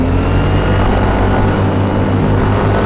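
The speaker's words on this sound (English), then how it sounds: "Trick is not to kill the engine." A paramotor engine idles and runs steadily before takeoff at a launch site, giving a loud, close, continuous propeller drone with a constant hum throughout.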